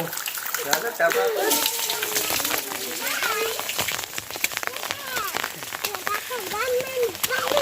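Cool rain pours down outdoors while people and children bathe in it, a steady hissing patter running beneath lively, near-constant talking and laughter.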